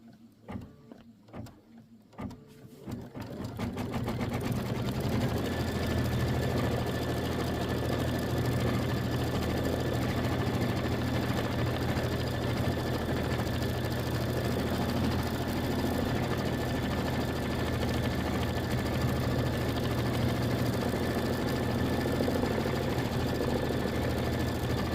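An embroidery machine stitches out a quilt block, starting up after a few seconds of quiet clicks and settling into a steady, loud mechanical hum with a rapid needle rhythm and a faint high whine. No voices are heard.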